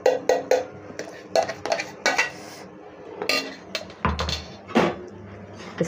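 Ground fresh green peas are stirred into cooked masala in a pan for green pea dal, a series of close metal spoon clanks and scrapes against the pot in irregular bursts, no voices.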